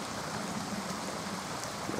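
Rain falling in a forest at night, heard as a steady, dense hiss of drops on leaves and ground that continues evenly throughout with no voices.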